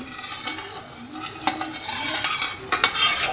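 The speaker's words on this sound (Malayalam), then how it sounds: "നമ്മളിത് ഇളക്കിക്കൊണ്ടിരിക്കുക വേണം അല്ലെങ്കിൽ ഇത് അടിയിൽ പിടിച്ച് പോകാനുള്ള സാധ്യതയുണ്ട്" A spoon scrapes and stirs through thickening milk pudding flavoured with cardamom in a hot pan, with irregular strokes over a low simmering sizzle and occasional louder knocks against the pan.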